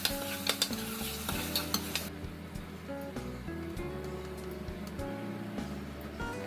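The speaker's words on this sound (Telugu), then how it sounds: "ఇప్పుడు కట్ చేసుకున్న టొమాటోస్ కూడా వేసి" Chopped tomatoes go into a pan with onions and ginger-garlic paste for crab curry, giving a close sizzle with stirring scrapes and utensil clinks, busier at first and then settling into a steadier, quieter fry.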